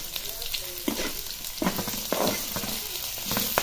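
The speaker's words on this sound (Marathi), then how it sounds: "आपण हा उरलेला मसाला सुद्धा तेलातच परतवणार जो प्लेटमध्ये उरलेला आहे" Leftover spice masala is sautéed in oil with green chillies, a sizzling fry punctuated by several scraping stirs of a spatula against the pan, with no speech.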